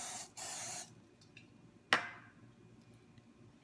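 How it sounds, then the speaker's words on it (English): Two short hissing bursts of cooking spray up close, coating a muffin tin, followed by a sharp metallic tap and quiet room tone. "coat it with cooking spray"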